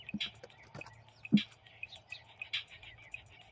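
Scattered faint bird chirps and tweets over a quiet, low hum, with a few soft clicks in between.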